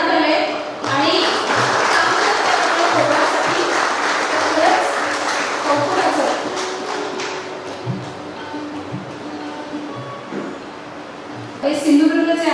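Audience applause at a journalism awards ceremony in Ratnagiri, a sustained wash of clapping across the room with occasional voices mixed in, easing off toward the end before a final burst.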